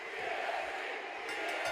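Wrestling arena crowd chanting for Bianca Belair, a broad sustained roar of many voices from a distance.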